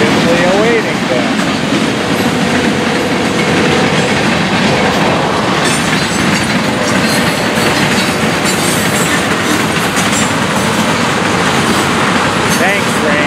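Florida East Coast Railway freight train FEC 210 rolling past close by, a loud, continuous roar with rhythmic clickety-clack of wheels and a faint metallic squeal running throughout.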